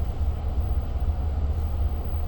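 A Long Island Rail Road train runs between Locust Valley and Glen Cove on the Oyster Bay line, heard from inside as a steady low rumble and rolling wheel noise with slight fluctuations, no voices.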